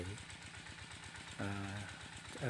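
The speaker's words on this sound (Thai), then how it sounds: "รถไถเดินตามกับเครื่องหยอดมาหยอดนะครับ" A small single-cylinder walk-behind tractor engine pulling a seed planter in a corn field chugs steadily in a rapid, regular rhythm, with its note shifting and growing louder partway through.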